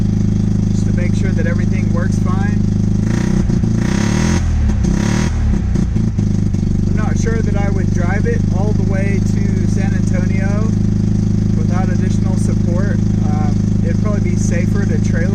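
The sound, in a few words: 1982 Mazda RX7 engine starting up and idling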